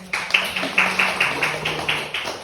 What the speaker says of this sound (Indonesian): Boleh tepuk tangan Bu.